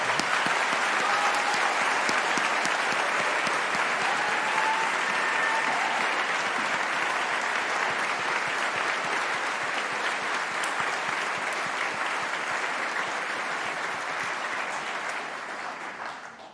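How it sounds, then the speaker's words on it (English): Steady, dense applause from a large audience at an engineering graduation convocation carries on for a long stretch, holding even in volume before fading slightly at the end. "One more round of applause for all of our graduates today."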